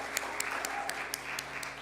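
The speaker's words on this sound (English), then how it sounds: "Let's give them another round of applause." A church service audience gives a round of applause. The clapping is soft and fairly distant, a steady patter with a few sharper individual claps standing out.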